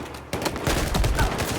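A sudden burst of rapid gunfire in the video game Battlefield breaks a brief silence, then dense, loud shots crackle together, close and continuous.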